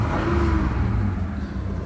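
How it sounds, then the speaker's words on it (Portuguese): Deep steady rumble of a 1999/2000 Mitsubishi Pajero GLS-B with a 3.5-litre 60-degree V6, idling close by as a smooth continuous low drone with no voices. "O ronco dela é maravilhoso, apesar dela ter aí um V6 de 60 graus"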